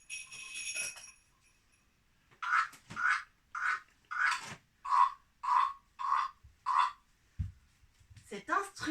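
A frog-shaped percussion instrument imitates croaking with a run of about nine evenly spaced rasping scrapes, close and clear, after a short opening jingle, with a brief voice at the end.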